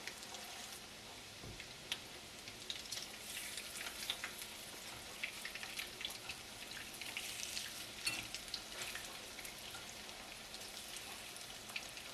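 Chicken croquettes fry in a pan over a gas flame, giving a steady, quiet sizzle with a soft crackle throughout and no voices.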